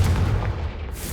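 A deep booming blast from the Confringo spell in the video game Hogwarts Legacy, a loud rumbling explosion that fills the moment and slowly fades.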